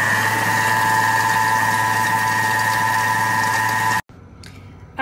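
An electric mixer whips sugar and eggs at speed 4, a steady loud motor whir with a constant high whine that runs unbroken and then cuts off near the end.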